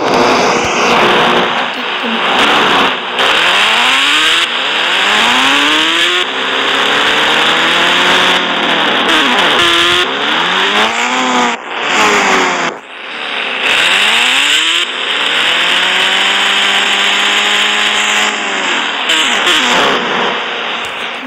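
A loud motorcycle engine in the game Indian Bike Racing 3D revs repeatedly, pitch rising and falling through gear shifts, close and continuous, with a video game feel.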